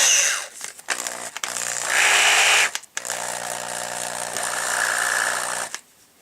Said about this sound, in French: C'est une perceuse qui est très précise.